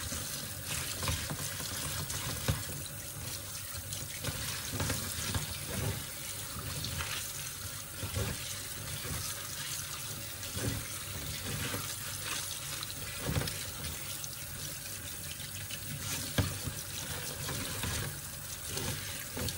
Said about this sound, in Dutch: Nu ga ik het wassen. Wassen doe ik onder een koude kraan.